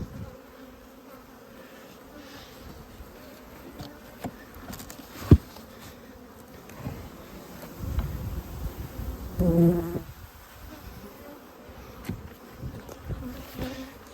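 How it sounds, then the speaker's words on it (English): Honeybees buzz steadily at a hive in a commercial beekeeping operation, a dense continuous drone with a few bees passing close, swelling louder midway, with occasional knocks and rustling. "Good looking hive of bees there."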